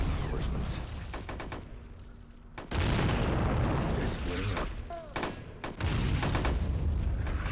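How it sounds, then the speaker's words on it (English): Artillery fire in the WW1 trench battle of Men of War, heavy booms and bursts of gunfire rolling in repeated waves, with a loud sustained barrage later on. "They're pinned down by green artillery."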